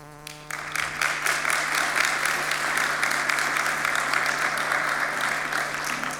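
Dense audience applause fills a debate hall on whether Israeli-Palestinian peace is possible, starting after a brief tonal moment and staying loud and steady with many overlapping claps for several seconds.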